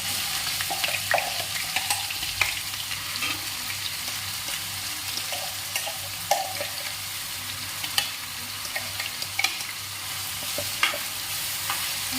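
Onions frying in hot oil with cumin in a pan, a steady close sizzle throughout and the light scrape of a stirring spoon tapping now and then.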